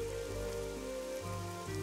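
Rain falls in the video game Evoland 2 as a steady, even patter layered under sustained tonal game music, with no voices.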